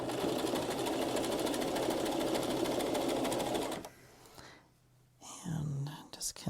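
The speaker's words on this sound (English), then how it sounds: "so we're just going to stitch along here." A sewing machine runs continuously for several seconds, stitching along fabric with a cord enclosed, a fast loud whirring rattle close up that stops abruptly, followed by quiet handling noises and brief shuffling.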